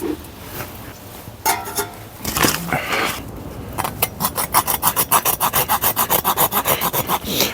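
Hardwood being sawn by hand on a trail outing, starting with scattered rubbing scrapes and settling into a steady, close, rhythmic series of back-and-forth saw strokes with no talking.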